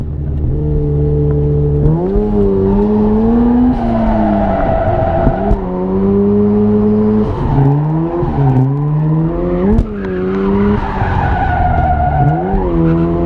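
A rotary car engine revs hard and continuously while drifting at a winter event, pitch rising and falling as it slides, with tire squeal mixed in; loud and close throughout.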